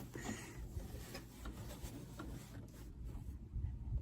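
An embroidery sewing machine stitches a butterfly design onto a messenger bag with a quiet, rapid mechanical chatter of needle strokes. The sound is fairly faint and close, and no one talks.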